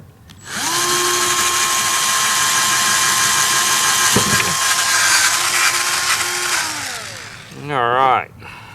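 A power drill whines up, holds a steady high-pitched spin for several seconds with a brief catch, then winds down; a voice follows at the end. A 1/4 inch bit drilling a hole in a roof for an air vent.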